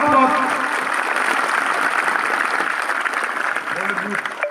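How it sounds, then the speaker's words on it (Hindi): Crowd applause at a football tournament closing prize ceremony in Barmer, a dense, even patter of many hands that holds strongly throughout, with a voice faintly under it at the start and end. "सभी की तरह से तालियां हो जाए"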